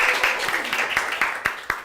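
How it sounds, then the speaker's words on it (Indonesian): Scattered hand claps from an audience applauding contestants at a live comedy show, several sharp claps standing out over a constant bright crowd wash. "tepuk tangan untuk para kontestan semuanya"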